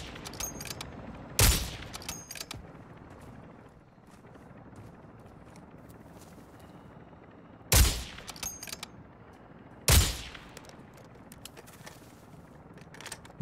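Gunfire in Call of Duty DMZ aimed at a vehicle's driver comes as three loud, sharp bursts over a low steady rumble, with quieter distant shots scattered between them.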